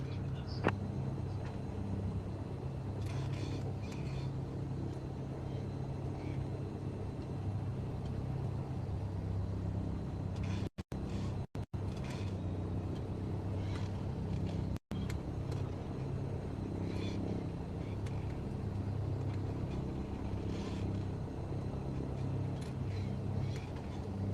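A Cessna engine in Microsoft Flight Simulator drones at a steady low rumble throughout, with brief dropouts, while a voice talks over it.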